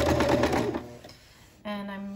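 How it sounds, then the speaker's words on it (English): A sewing machine backstitches fabric for a dress with a short burst of stitching, then pauses and resumes with a steady motor hum, heard close and fairly loud. "So I'm gonna first backstitch, or forward stitch, then backstitch."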